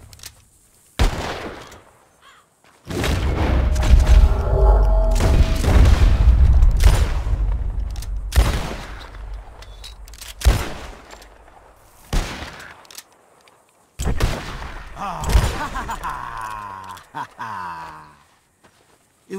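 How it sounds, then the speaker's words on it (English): Rifle shots in Red Dead Redemption 2, fired at birds flying overhead: a dense volley of loud cracks and booms in the middle, then scattered single shots and outdoor game ambience. "whoever shoots four birds out of the sky first wins"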